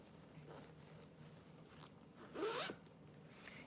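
A zipper on a fabric bag is pulled once in a quick, raspy sweep, close and fairly quiet, against a soft background hum.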